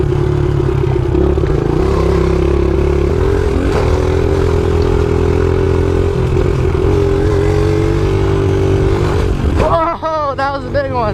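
An off-road dirt bike's engine drones loud and close at steady revs while riding over jumps and bumps, then a rider's excited shouting breaks in near the end.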